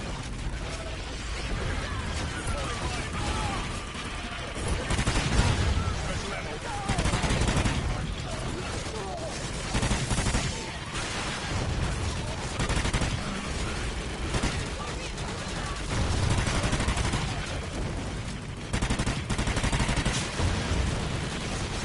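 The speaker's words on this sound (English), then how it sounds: "You got dual pistols, you just melt them." Dual pistols fire nonstop during a Call of Duty Extinction match, with rapid, dense gunfire and booms filling the whole stretch at high level, layered with game effects and occasional voices.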